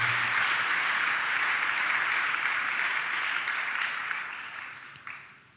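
A church congregation applauds in a dense, sustained wave of clapping that holds steady, then thins out and fades over the last second or so.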